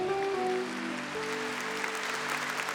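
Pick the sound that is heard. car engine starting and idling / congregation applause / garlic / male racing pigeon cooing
congregation applause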